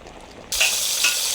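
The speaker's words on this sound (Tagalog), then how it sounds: "kumukulo na yung paksiw natin" A pot of Filipino fish paksiw comes to a bubbling, sizzling boil that starts suddenly and continues steadily, close up, with no talking.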